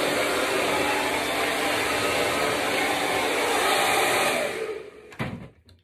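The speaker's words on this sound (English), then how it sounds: "This is a really good hairdryer." A heavy, fast, hot hair dryer blows in a steady, loud, close broadband whoosh for about five seconds, then clicks off and winds down.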